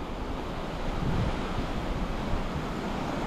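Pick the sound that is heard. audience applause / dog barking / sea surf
sea surf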